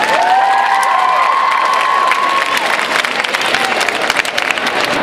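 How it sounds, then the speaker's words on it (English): A large crowd of fans at a Homestuck fandom photo shoot applauds and cheers, a dense, loud wash of clapping with whoops and a few high shouts rising over it throughout. "So give yourselves a round of applause."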